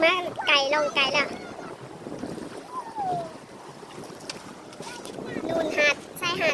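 A pedal boat moves out on the sea at Cattolica, Italy, with water lapping and wind buffeting the microphone, while voices talk and call out over it at intervals.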